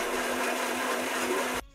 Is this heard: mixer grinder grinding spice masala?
yes